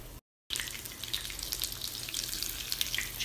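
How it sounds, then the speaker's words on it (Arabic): Chicken frying in hot olive oil in a pan over medium-high heat, a sudden dense sizzle after a brief silence, steady hissing with scattered crackles and pops, close and continuous. "لما نتأكد أنه سخن نضيف الدجاج، نخليه دقيقتين على كل ناحية"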